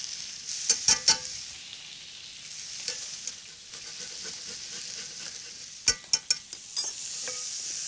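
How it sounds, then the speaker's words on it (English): Garlic frying in a pot for beef stew, a soft steady sizzle broken by a few sharp scraping clatters of a spoon stirring against the pot, close and fairly quiet with no talking. "Just give that a quick stir"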